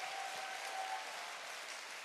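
A seated audience at a business marketing seminar claps steadily in thanks to the company chairman, a dense, even wash of applause held for the whole stretch at moderate loudness, with no voices over it.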